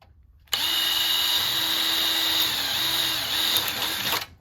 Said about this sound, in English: sometimes they'll get a drill and they will drill through here